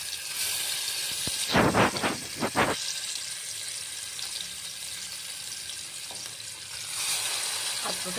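Marinated chicken with tandoori masala going into hot oil in a pressure cooker, a bright steady sizzle with a cluster of sharp splattering bursts early on, then continued frying hiss.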